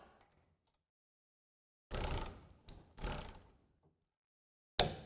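A ratchet wrench tightens a bolt on a Blue Ox SwayPro hitch head assembly for an Airstream. A few short, close bursts of rapid clicking are separated by silence, with no talk.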